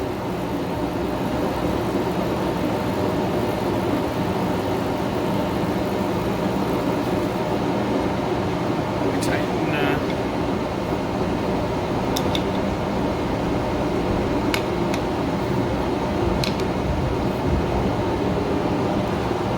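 A lathe turns steadily while a boring bar is hand-fed into the workpiece. It makes a loud, continuous mechanical drone, with a few brief high squeals and clicks near the middle and end.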